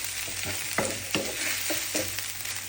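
Soya chunks fry with golden-browned onions in a pan, giving a steady close sizzle broken by several soft scraping stirs of the spoon, with no talk.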